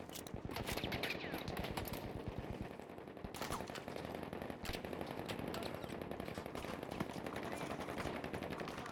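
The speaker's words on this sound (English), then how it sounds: "I'm shooting a box, man." Rapid automatic gunfire in the video game Battlefield V, a steady, dense rattle of shots that runs continuously at moderate loudness.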